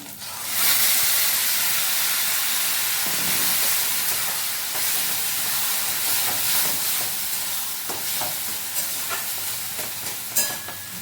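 Loud, continuous sizzling and hiss as boiled Maggi noodles hit a pan of fried egg, the frying roar steady and close, with faint stirring clicks toward the end and no talking.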